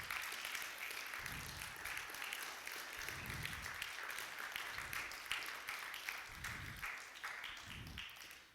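A church congregation applauding, rhythmic bursts of clapping rising and falling several times, moderately distant and fairly quiet.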